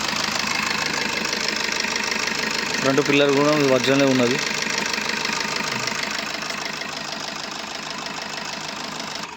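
A white 2016 Maruti Suzuki Swift Dzire diesel idles nearby with a steady, even engine hum and a faint clatter, while someone talks over it throughout.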